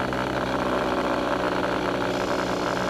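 A light training aircraft's piston engine drones steadily in flight during a private pilot training lesson, a loud, close, constant hum with no talk.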